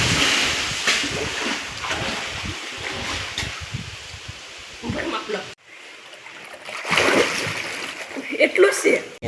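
People splash loudly in a swimming pool, with repeated sloshing and splattering water nearby and voices chattering over the splashes.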